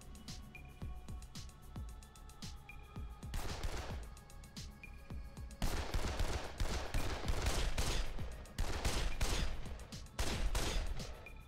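Gunfire in Dead Island: sharp rifle shots, a few at first, then rapid bursts of many crackling reports, loud against a low background hum.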